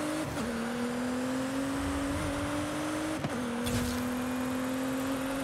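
A car engine in the Forza Horizon 5 racing game drones steadily, pitch gliding gradually upward as the car accelerates, with a brief knock or shift blip partway through; no talking.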